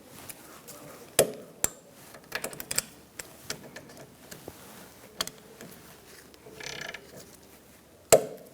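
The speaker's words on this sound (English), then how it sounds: "Put our lug nuts on by hand." Lug nuts threaded by hand onto the wheel studs of a 2010-2013 Kia Soul, heard as scattered metallic clicks and light rattling taps at close range, with a few sharper clinks.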